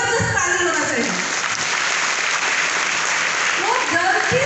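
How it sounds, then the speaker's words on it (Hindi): An audience breaks into loud, continuous clapping at a motivational talk, with someone speaking briefly at the start and again as it winds down. "उनके लिए जबरदस्त ताली होना चाहिए।"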